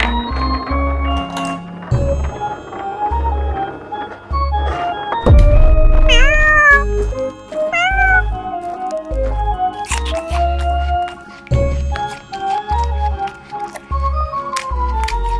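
Pet cats meow repeatedly, with several rising, drawn-out calls over a steady low rhythmic thump of background music. The meows come close and clear, and no one speaks.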